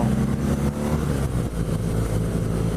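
BMW R nineT Pure motorcycle from 2017 being ridden, a steady low engine drone with wind rush, continuous and close, no talk.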